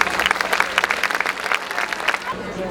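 Crowd applause at an outdoor French town celebration, a lively spell of many hands clapping with a voice speaking under it, then tapering off.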